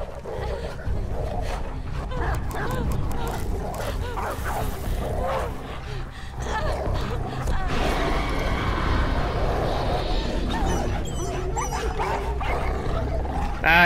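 In the video game Beyond Two Souls, a dog snarls, barks and yelps through a scuffle with a person, loud and close, mixed with grunts, impacts and game sound across the whole stretch.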